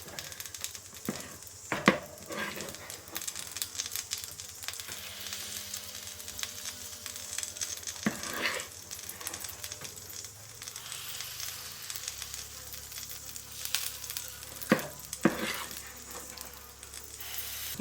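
Butter sizzles steadily in a pan while crumpets cook in rings, a constant soft crackling hiss with a few sharper clicks and clatters of utensils near the microphone.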